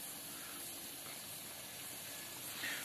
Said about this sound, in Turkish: yağmurlamanın sesini duyabilirsiniz arkadaşlar